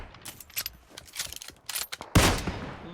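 Gunfire crackles in PUBG Mobile as scattered, uneven shots and short bursts, ending in a louder, sharper volley up close.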